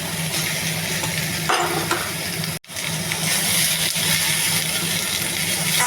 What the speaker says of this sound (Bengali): তেল দিয়ে, সামান্য তেল দিয়েছি, দিয়ে গাজর ক্যাপসিকাম ছেড়ে দিয়েছি। এবার ভাজা হচ্ছে।